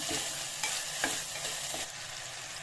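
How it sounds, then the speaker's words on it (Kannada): Chopped tomatoes with green chilies frying in a pan for chana dal tadka, an even close sizzle broken by a few sharp spatula scrapes, no talking. "ಸ್ವಲ್ಪ ಟೊಮೆಟೊ ಹಾಕ್ತೀನಿ. ಫ್ರೈ ಮಾಡ್ತೀವಿ ಟೊಮೆಟೊನ."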